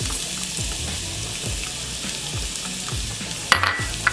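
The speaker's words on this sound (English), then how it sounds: "once your oil is hot and ready, we are going to throw our onion" Chopped onion and cilantro hit hot oil in a pan, giving a steady loud sizzle with rhythmic stirring scrapes, then a sharper clatter near the end.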